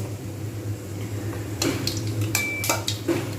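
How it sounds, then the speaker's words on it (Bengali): Panch phoron and dry red chillies frying briefly in hot oil in a wok, a soft sizzle with a few close metallic clinks of a spoon against the pan. "এতে দিয়ে দিলাম পাঁচ ফোড়ন আর শুকনো লঙ্কা এটা জাস্ট একটুখানি ভেজে নেব"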